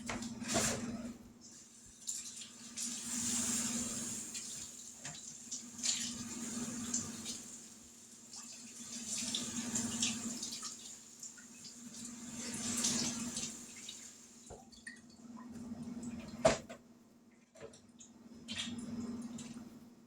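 Tap water runs into a kitchen sink while baby back ribs are rinsed under it, a steady splashing flow broken by wet squishing pulses as the meat is turned, with no talking.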